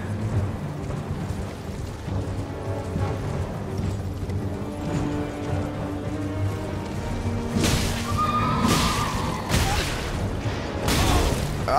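A horse whinnies amid Elden Ring game sounds, with harmonic neighing calls over a low rumble and several bursts of noise toward the end.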